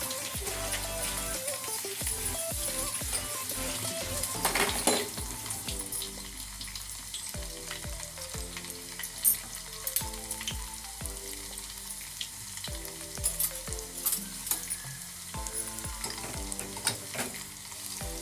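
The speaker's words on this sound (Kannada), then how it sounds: "ಬೆಳ್ಳುಳ್ಳಿ ಹೆಚ್ಚಿಟ್ಟಿದ್ದು ಹಾಕಿ ಆಗುತ್ತೆ." Chopped garlic sizzles and fries steadily in hot oil in a home kitchen while pickle is prepared, a continuous close crackle with occasional stirring clatter and no talking.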